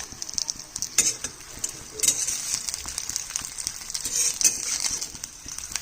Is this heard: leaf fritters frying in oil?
yes